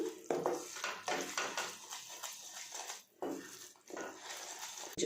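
A spoon scrapes and clinks against a pan as jaggery syrup for puffed-rice laddus is stirred, with repeated close scraping strokes and brief pauses.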